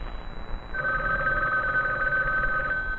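A telephone rings with a steady electronic warble that starts after a brief quiet moment and carries on clearly over low background noise.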